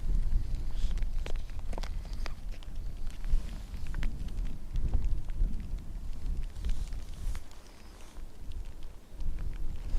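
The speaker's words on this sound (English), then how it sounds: "the rain is coming from behind me." Steady rainfall patters on surfaces at Dublin Airport, a continuous wash of drops with occasional louder taps, close and fairly loud.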